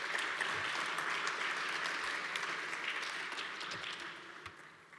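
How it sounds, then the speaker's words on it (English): A round of audience applause for speaker Nguyen after a talk on cuPyNumeric, steady clapping from a modest crowd that gradually thins and fades toward the end. "Then let's give it more round of applause for Nguyen."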